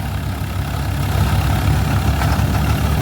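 A Swaraj 855 tractor engine labours under heavy load while driving a straw-making machine, a steady, loud, low diesel drone that holds even throughout with no voices.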